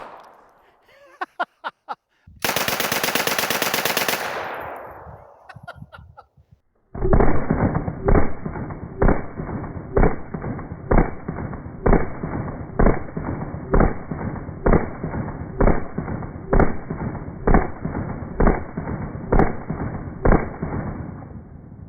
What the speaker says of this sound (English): I'm going to do 15 more rounds of the PPS 43 right on the arm